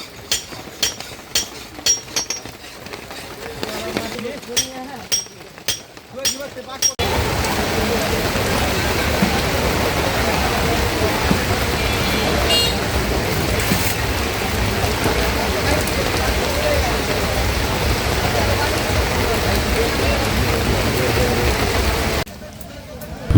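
Rain falls on a riverside village market, a dense, even hiss that sets in after a few sharp taps and holds steady, fairly loud and close, before cutting off near the end.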